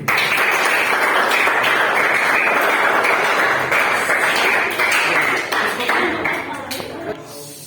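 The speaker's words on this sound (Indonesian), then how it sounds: "Sekarang tepuk tangan untuk kalian semua dulu." Students in a classroom applaud at length, their loud, dense clapping holding steady before thinning and fading toward the end.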